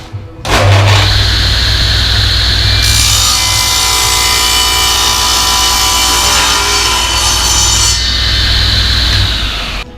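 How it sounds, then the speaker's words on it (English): A jigsaw cuts through MDF board in one continuous loud buzzing run, the blade's rapid strokes steady and close, starting abruptly and stopping near the end. "Cut the other end out with the jigsaw."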